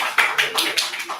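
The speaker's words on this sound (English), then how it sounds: "And we have a huge round of applause for him." A few people clap at a livestreamed event, sparse distinct hand claps at an uneven rhythm, close and fairly loud, with speech mixed in.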